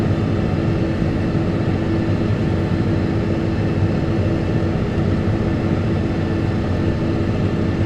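Tractor engine running steadily at high RPM while rolling a sandy field for planting, a continuous loud low drone with a harmonic hum and no pauses.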